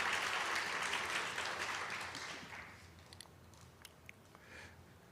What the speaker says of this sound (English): Let's give a big round of applause for our MSBS program.